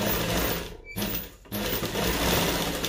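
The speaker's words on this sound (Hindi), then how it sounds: "इसे हम इस तरह रखकर एक सिलाई लगाकर पहले पक्का करते हैं" A sewing machine stitching palazzo pant fabric runs in a fast, steady whirring hum close by, stops briefly twice, then carries on.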